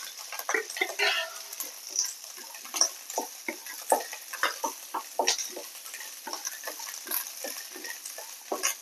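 Slit green chillies and small shallots frying in a pan give a low sizzle broken by frequent clicking, scraping stirs at an irregular rhythm, close and moderately loud.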